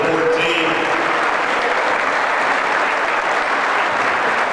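Applause from a basketball all-star event crowd honoring graduating players of the class of 2014, a dense steady clapping sustained throughout.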